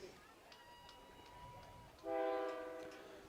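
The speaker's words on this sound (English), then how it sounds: "You can hear the train in the background." During a high school football game at an outdoor stadium beside a highway, a train goes past and sounds its horn. The long, loud blast comes in over faint crowd noise and talk, following a softer rumbling approach.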